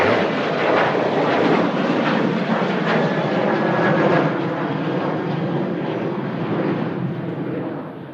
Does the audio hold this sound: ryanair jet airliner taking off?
yes